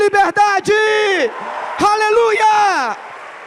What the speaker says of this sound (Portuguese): Forte aplauso e libere um grito de liberdade.